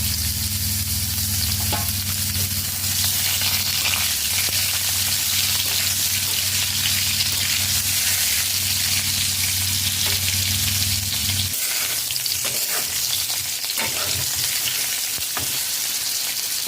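Boiled potatoes sizzle and crackle steadily in hot oil over a low-to-medium flame, a loud continuous hiss with occasional stirring clatter; a low hum underneath drops out partway through.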